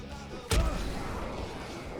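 A single loud firework blast bursts out partway through in Alan Wake Remastered, a sharp boom followed by a rumbling tail over low background ambience.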